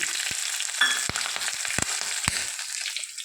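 Tempering seeds with cumin and green chillies frying in a pan: a loud, dense, continuous sizzle punctuated by several crisp spatula taps against the pan.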